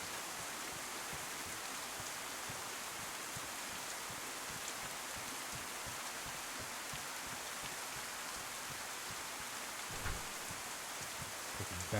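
Steady rain pours in the survival game DayZ during a storm, a constant hiss of drops falling on surfaces that holds evenly throughout with no speech.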